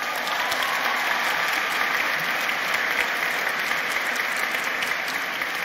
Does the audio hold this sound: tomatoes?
no